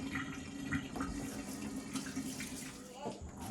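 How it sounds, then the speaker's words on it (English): Water running and gurgling from a kitchen sink after the plug is pulled, a steady close wash of flowing water with light splashing, no talk over it. "I'm going to pull the plug, let that water run out."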